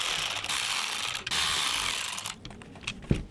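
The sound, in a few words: T25 Torx driver removing BMW window regulator motor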